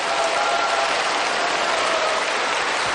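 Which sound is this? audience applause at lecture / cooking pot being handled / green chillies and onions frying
audience applause at lecture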